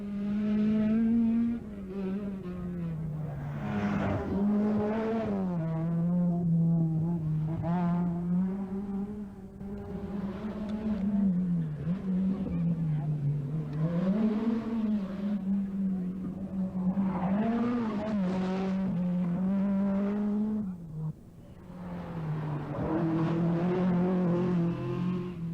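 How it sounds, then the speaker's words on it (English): Rally cars at the 1984 Circuit of Ireland, including a Ford Escort, roar past spectators on a stage, engines revving hard and rising and falling in pitch as they approach, pass loudly and fade away. "Winston Henry's escort is most spectacular"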